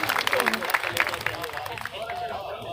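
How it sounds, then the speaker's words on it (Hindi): Audience applause at a poetry recital during a museum festival, a dense patter of clapping mixed with crowd murmur and scattered voices, fairly close and steady throughout. "एक बार जोरदार ताली बजाइए।"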